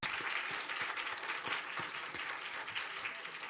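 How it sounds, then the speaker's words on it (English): An audience at a nanotechnology competition gives graduate student mentors a round of applause: dense, continuous clapping from many hands, moderately loud and steady throughout, with no talk over it. "so we can give you huge applause"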